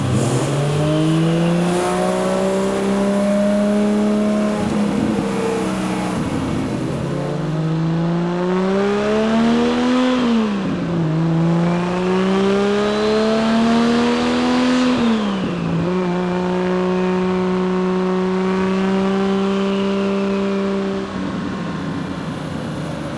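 A 1978 Datsun 280Z engine pulls through the gears on a test drive, its loud, droning tone rising under acceleration, dropping sharply at each shift and climbing again, heard from inside the car without talk.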